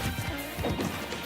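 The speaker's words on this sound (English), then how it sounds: "one hammer shot from Beastman though did send Habibi flying" A hammer strike in a Super Smash Bros match lands as a sharp crash amid clattering game hits and effects, dense and loud.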